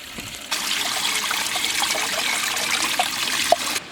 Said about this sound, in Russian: Сейчас только наберу водички из болотного источника.